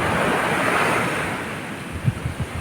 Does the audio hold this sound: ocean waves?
yes